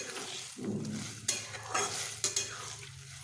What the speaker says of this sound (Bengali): জল দেবার পরে আমি এইভাবে মিশিয়ে নিচ্ছি